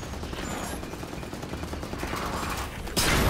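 Pulse grenade going off in the video game Halo 5, a dense crackling burst of game combat noise that swells suddenly and loudly near the end.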